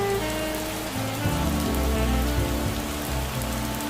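Heavy rain pours steadily in an animated cartoon, a dense, loud hiss of drops hitting surfaces with a low hum underneath and no talking over it.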